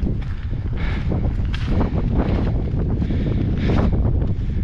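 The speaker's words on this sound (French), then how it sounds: "histoire de se camoufler un peu du vent parce que franchement c'est dur" Strong wind buffets the microphone on a snowy Alpine hiking trail near a ski lift at La Rosière, a loud continuous low roar with surging gusts throughout.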